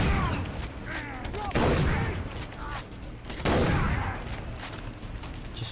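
Heavy shotgun blasts in the shooter Far Cry 3, two loud booming shots a couple of seconds apart amid ongoing gunfire and game noise, with voices speaking underneath.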